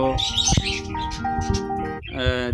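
Finch chicks being fed by their mother give thin, high, tonal chirps in quick overlapping bursts, close and fairly loud, with no talking.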